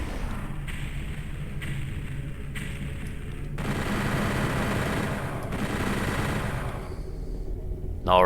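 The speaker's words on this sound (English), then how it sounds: "we'll take care of the Baron of Hell with our rocket launcher" Rocket launcher fire in Doom 64, heard as a series of heavy blasts separated by short gaps, each booming close and loud over a constant rumbling game background.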